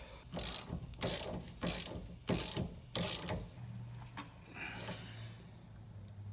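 Ratchet cranking down a quick release mount for a Momo competition steering wheel, five loud rapid bursts of clicking close up, then quieter ticks over a low hum.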